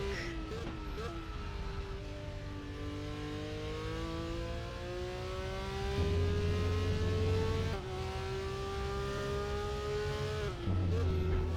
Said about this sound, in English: So let me enjoy the sounds of the Porsche.